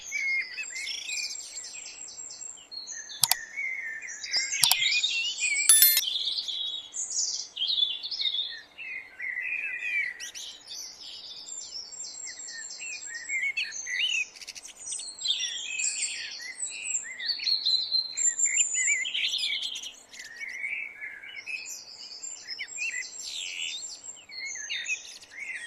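Birds in the Kenyan wild keep up chirps and calls at moderate distance, with a few sharp clicks early on and a steady bright chatter throughout.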